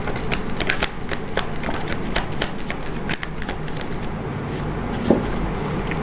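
Tarot cards being shuffled and drawn, giving a dense, continuous riffling and rustling of card stock with light flicks and slaps, close and steady throughout, with no voices.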